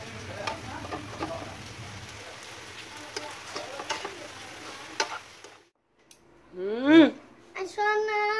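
Tteokbokki is stirred and mixed in a pan, giving a soft steady sizzle with light ticking scrapes for several seconds before it drops away and voices take over.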